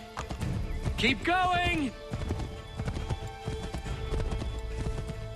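Hooves clip-clop rapidly as a horse gallops in the Assassin's Creed III video game, with a loud neigh near the start and the hoofbeats continuing steadily after it, while a voice shouts briefly over the action.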